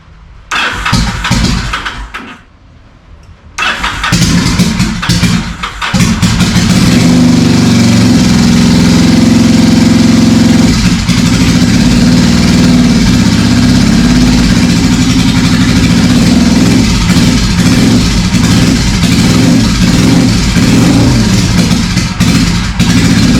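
Yamaha V-Star 1100 motorcycle with a running fault, starting after a brief gap and then holding a loud, close, rough and uneven idle with slight surges for the rest of the stretch.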